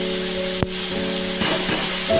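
Pumpkin greens with black cumin paste in a pan make a steady frying sizzle, with a few sharp clicks and scrapes of stirring and a steady hum in the background.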